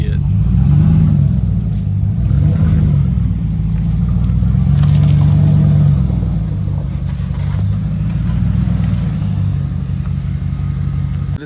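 A truck with a 5.7 Hemi V8 is out on a test drive, and a continuous low engine rumble and road drone is heard from inside with gentle rises in pitch as it pulls, loud and steady throughout.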